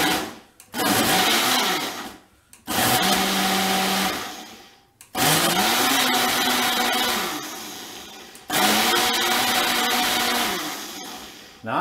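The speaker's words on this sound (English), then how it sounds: "I'm going to pulse this down so we get a nice puree" A blender pulses gravy ingredients for a gluten-free Thanksgiving gravy into a puree, running in four loud whirring bursts of a few seconds each, separated by short pauses, with the motor pitch rising and falling with each pulse.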